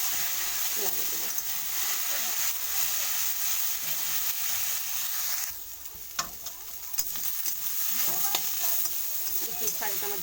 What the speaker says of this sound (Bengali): ভালো করে নেড়ে নেড়ে ভাজা করবো।